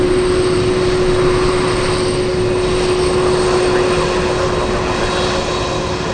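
A UPS Boeing 767 taxiing on an airport taxiway gives off a loud, steady engine roar with a constant whine, sustained and fairly near, with no clear speech.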